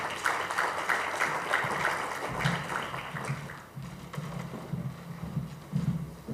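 Conference audience applauding to welcome a speaker, clapping heard at a distance that is moderately soft at first, then fades into quieter room noise with low rumbles.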